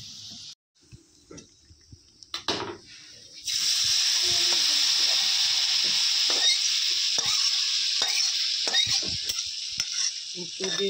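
Mixed vegetables for labra frying in a pan, a loud steady sizzle taking over after a few seconds of quieter clinks, with intermittent stirring scrapes and spatula knocks, close and continuous.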